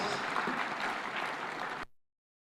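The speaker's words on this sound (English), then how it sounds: "Another super applause for our host" An audience applauds the host at the official opening of a devolution conference in Homabay, a dense, even wash of clapping that cuts off abruptly near the end.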